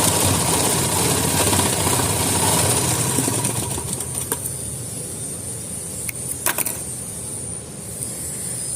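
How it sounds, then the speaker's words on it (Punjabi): A sewing machine stitches a kameez neckline with a steady, close mechanical whir that eases slightly partway through, broken by a few short clicks and knocks near the end. "ਹੁਣ ਆਪਾਂ ਸਲਾਈ ਲਗਾਵਾਂਗੇ"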